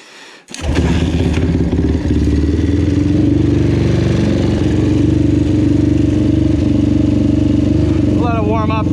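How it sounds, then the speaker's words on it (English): A 2005 Honda TRX450R ATV engine, its throttle slide sticking, fires up and settles into a loud, steady idle with a rapid, rough mechanical clatter close by. "Warm up for a second and not touch the throttle"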